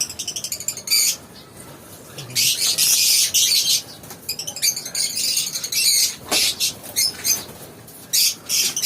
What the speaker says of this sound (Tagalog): Yung mga alaga rin akong parakeet guys.